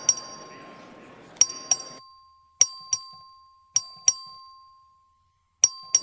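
A clerk rings the legislative voting bell during a record vote, a run of bright, sharp ding strikes in an uneven pattern, each ringing out and decaying, with murmur from the chamber in the first two seconds.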